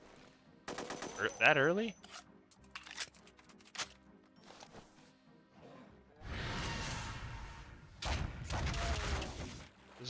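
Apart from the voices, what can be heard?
demon rifle gunshots in the video game Resurrection of Dawn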